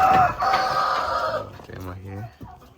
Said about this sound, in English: Here are my full breed Brahma chickens.